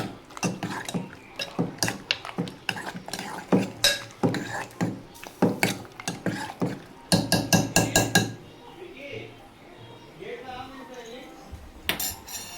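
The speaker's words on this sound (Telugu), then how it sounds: "కొంచెం సాల్ట్ వేసేసుకొని మెదిపేసుకోవడమే ఫ్రెండ్స్." Cooked dal is mashed with salt in a metal pot, making rapid rhythmic clanking and scraping strokes in bursts up close, then quieter, with a voice speaking briefly in the pauses.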